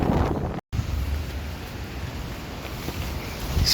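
Strong gusts buffet a tent pitched on open ground, a loud continuous rumbling roar of wind against the fabric and microphone with a brief dropout near the start.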